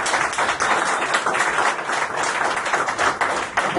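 A church congregation applauding continuously for a few seconds, a dense, steady patter of many hands filling the room at fairly close range with no speech over it.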